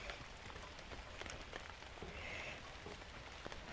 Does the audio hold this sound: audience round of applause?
no